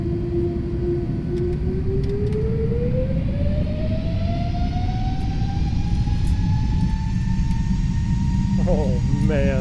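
Airbus A320neo jet engines in a flight simulator spooling up at night: a loud, steady turbine roar with a whine that climbs steadily in pitch over several seconds, heard from the front of the aircraft.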